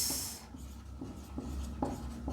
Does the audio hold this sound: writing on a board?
yes